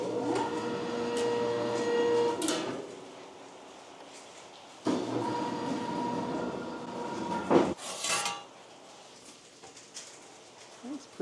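A three-phase 220-volt sheet metal bending brake folds eighth-inch steel to 90 degrees. Its motor whirs through two stretches separated by a quieter pause, and a sharp clunk and rattling knocks follow the second run.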